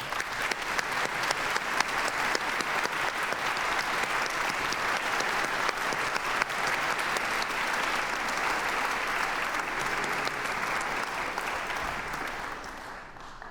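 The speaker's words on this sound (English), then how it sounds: "I think it's time that we all give a special applause to our dean." Steady, sustained applause from a large crowd at a conservatory graduation ceremony, clapping evenly for several seconds before tapering off slightly at the end.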